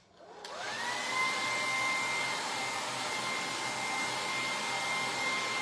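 A hair dryer drying glaze on a craft sign starts up with a click and whirs steadily at close range, a continuous airy roar with a whine that holds through to the end.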